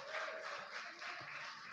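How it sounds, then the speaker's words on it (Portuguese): A church congregation claps in steady, faint applause that sounds distant and continues throughout. "Aplauda esse Deus"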